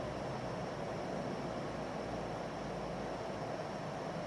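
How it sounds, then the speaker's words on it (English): Antica 40-inch ceiling fan spinning fast at about 300 RPM, a steady broadband whoosh of rushing air with a low motor hum, continuous and even throughout, close by with no voices. "you can definitely hear the fan, the wind noise as well"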